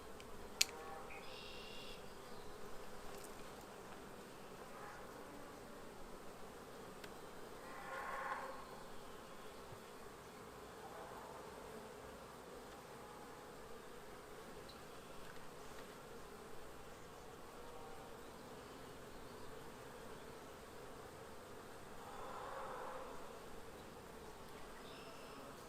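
Honey bees buzz faintly and continuously around an open hive outdoors, with occasional individual bees droning closer past the listener and no talking.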